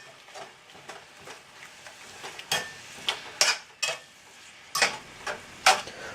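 Ground beef browns in a pan under a soft sizzle while a utensil stirs it, with irregular sharp scrapes and taps against the pan heard close up.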